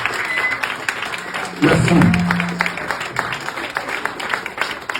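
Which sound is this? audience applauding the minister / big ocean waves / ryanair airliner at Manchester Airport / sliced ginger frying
audience applauding the minister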